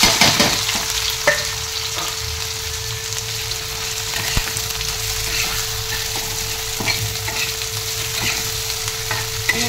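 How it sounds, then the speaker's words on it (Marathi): Cumin, plenty of onion and tomato frying in hot oil in a tawa, giving a steady close sizzle with a few sharp stirring clicks against the pan. No one speaks. "तेल टाकलेलं आहे तव्यात. तेल तापलं का नाही जिरा टाकायचा, कांदा भरपूर घालायचा आणि टोमॅटो"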